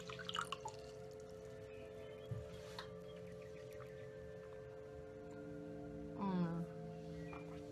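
Water poured into a glass, a faint trickle and drip with a brief gurgling fill near the end whose pitch rises, set against a steady low background hum.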